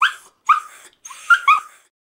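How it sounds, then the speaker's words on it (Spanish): A puppy gives a series of high, thin whimpers and yips in short bursts, about five cries with brief gaps, close and alone. "Cachorro."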